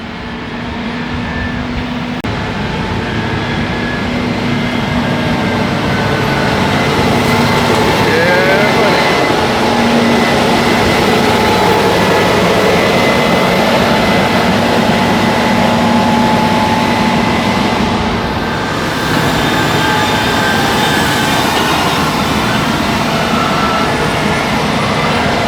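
Slow-moving farm vehicle rumbling along a road, a steady heavy engine drone heard from close by for the whole stretch, with a voice talking faintly over it.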